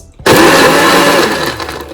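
A blender switches on abruptly and whirs loudly, roaring as it chops apples with rose essence and chilled water into juice, then dips slightly in pitch toward the end.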